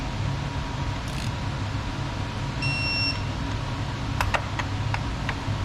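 Snap-on torque wrench tightening a coil pack on a Mini Cooper, giving a short steady electronic beep, then a few sharp clicks over a constant low workshop hum.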